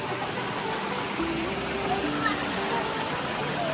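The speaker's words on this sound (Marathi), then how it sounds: "जंगलातून पाणी येते." Water flowing down out of the forest in a steady, close rushing stream, with a person's voice speaking over it.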